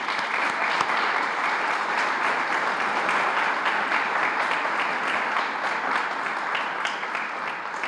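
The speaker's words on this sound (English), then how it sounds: "I would hope the MVP students would join me in a round of applause for them as well" Steady, dense applause fills a ribbon cutting ceremony for a vocational academy as students clap for program staff, an even wash of many hands from start to finish with no speech over it.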